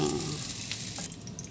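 Ingredients fry in butter in a pan with a close, steady sizzle and light stirring scrapes, brief and continuous.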